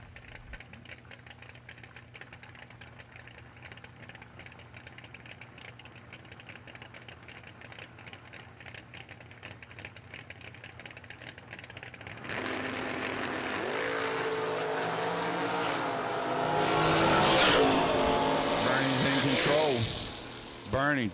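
Bracket drag race at the Hillbilly Bracket Bash with a Chevy II facing a Camaro: a steady distant engine drone gives way to a loud, swelling roar of cars launching and pulling away, with shifting pitch sweeps that fade near the end.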